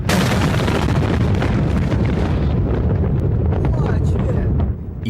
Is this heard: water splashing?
no